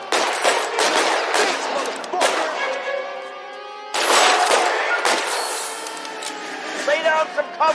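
Bursts of automatic gunfire rattle in a shootout in the video game LA Noire, loud and close. The firing comes in several rapid volleys with short gaps between them, and voices shout over the shots.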